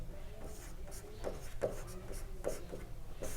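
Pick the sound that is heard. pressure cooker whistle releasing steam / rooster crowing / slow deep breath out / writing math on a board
writing math on a board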